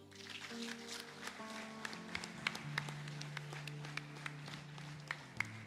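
A church congregation applauds quietly, scattered claps and taps sounding faintly over sustained keyboard chords that play throughout.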